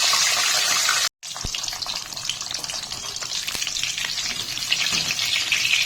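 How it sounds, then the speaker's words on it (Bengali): Large katla fish heads fry one at a time in mustard oil in a wok, giving a loud, close, crackling sizzle. It cuts out for a moment early on, then carries on steadily with sharp spits and pops. "কড়াইয়ে সরষার তেল দিয়ে প্রথমে এক এক করে মাছের মাথা ভেজে নেব।"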